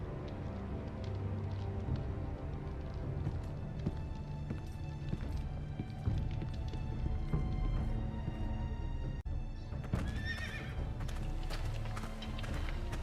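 Horse hooves clip-clopping with an occasional whinny in a Game of Thrones video game, heard beneath a busy background of game ambience and rustling mechanisms.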